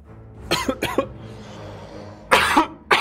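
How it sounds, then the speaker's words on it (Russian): Several harsh, close coughs in quick bursts, a pair early, then a louder one and a short final cough, with a soft breathy pause between. "Прошу прощения, что я кашляю"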